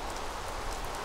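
Rain in Minecraft falls as a steady, even hiss of dense drops, continuous and unbroken, with no talk.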